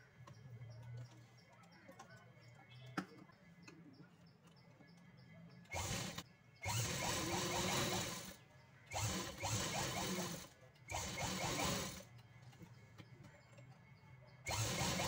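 A sewing machine stitches a dress neckline cut from a saree, running in several loud bursts of rapid mechanical whirring with short pauses between, after a quieter opening stretch.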